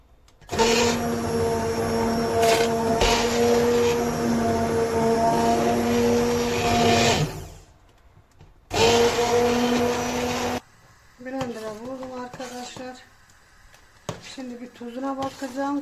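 A loud kitchen blender whirs in two bursts while blending a kapya pepper tomato sauce, the first long and the second shorter, then a person speaks after it stops.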